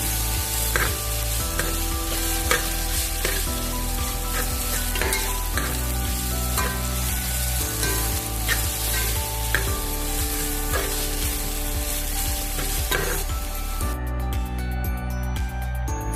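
Onion and green chillies sauté with ginger-garlic paste in a pan for a simple Alappuzha-style chicken curry: loud continuous sizzling with repeated stirring scrapes, under steady tonal background music.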